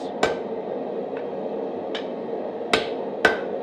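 A hammer striking hot steel in a few sharp, ringing blows spaced unevenly during forging, close and clear over a faint background hum.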